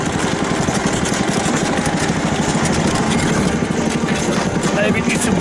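Engine of a homemade truck under way, a steady low rumbling drone with constant road and mechanical noise throughout, close and fairly loud, with no talk audible over it.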